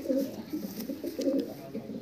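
Racing pigeons cooing in a loft, a steady run of low, rolling coos repeating in overlapping bursts, close and moderately loud throughout.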